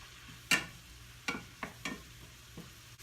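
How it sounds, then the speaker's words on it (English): Garlic for collard greens cooking in a pan, a faint soft sizzle under a low hum, broken by several short scraping stirs of a utensil against the pan. "you're just going to cook that until the garlic is fragrant, so about a minute"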